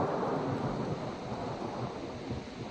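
A heavy roll of thunder from a storm in Isère fills the air with a deep, sustained rumble that fades slightly over a few seconds, loud and broad with wind noise and no voices.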